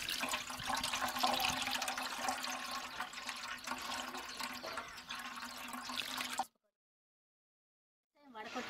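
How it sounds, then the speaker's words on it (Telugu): A decoction of custard apple leaves, aloe vera and cow urine is strained through a cloth. Liquid pours and splashes steadily for several seconds, then stops, with a short fizzing trickle near the end. "పలసిన గుడ్డలో వడపెట్టుకోవాలి."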